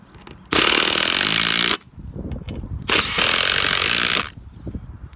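Two loud bursts of an impact driver whirring at high speed, each about a second long, separated by a short pause with quieter background noise.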